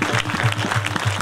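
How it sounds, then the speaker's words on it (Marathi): Audience at a kirtan claps in unison for the Maharaj, brisk rhythmic claps at a quick, regular beat, close and fairly loud, lasting about a second. "मनापासून एकदा परत आपल्या महाराजांसाठी जोरदार टाळ्या वाजवा"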